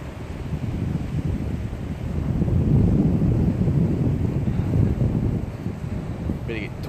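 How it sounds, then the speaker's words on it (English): Breezy wind blowing at the coast at Castlepoint, New Zealand, a steady low buffeting rumble against the microphone that swells slightly midway, with no talking. "A little bit breezy this morning."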